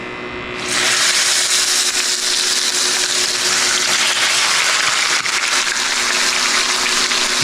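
Beef tenderloin hits piping-hot browned butter in a skillet, setting off a sudden loud, steady sizzle that holds unbroken at close range.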